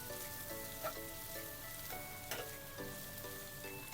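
Onions sautéing in a pan for Kerala-style beef curry, a soft steady sizzle with faint stirring scrapes, close but quiet, no talk.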